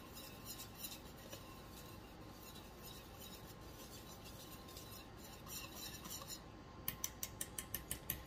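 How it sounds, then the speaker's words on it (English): Dry ingredients for zucchini bread with cinnamon whisked in a bowl, faint soft scraping and stirring, then a burst of quick metallic whisk taps against the bowl at the end. "let's give this a whisk together"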